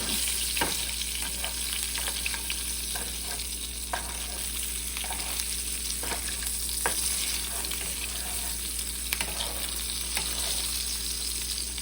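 Cajun seasoning is stirred into a sizzling pan, with a constant loud frying hiss broken by repeated scraping strokes of the spoon, close and with no talking.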